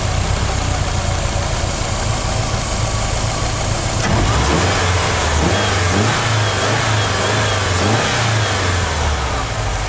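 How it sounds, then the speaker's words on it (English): A Subaru engine idles and is revved repeatedly while upper engine cleaner is sprayed into its intake, a steady close running drone rising in several rhythmic surges in the second half, with no talking. "Every so often I'll give the engine a rev."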